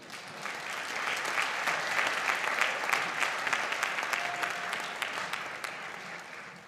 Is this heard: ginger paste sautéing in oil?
no